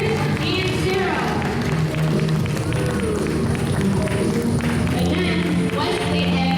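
Applause and cheering from a crowd at a Hmong New Year celebration at St Patrick Church, sustained and loud throughout, with voices and crowd noise mixed in.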